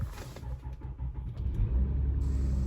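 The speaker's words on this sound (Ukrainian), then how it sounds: "Це так нормально заводиться таурех. Трошки прокручує, він робить так, як як ніби трактор." Diesel V6 3.0 TDI in a 2007 VW Touareg cranking briefly and catching, settling into a close, heavy, tractor-like low rumble that swells slightly toward the end.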